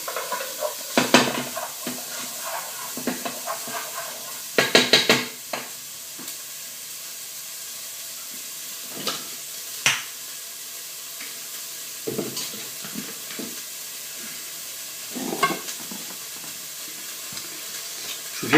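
Onions sautéing in a pan make a steady soft sizzle, broken by scattered scrapes and clinks of a utensil stirring against the pan.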